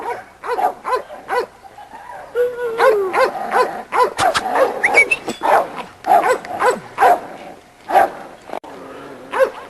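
Several small dogs at a kennel yard, including a little female named Sarita, bark and yip in short bursts, some high whimpers mixed in, close and fairly loud throughout, with a person talking over them.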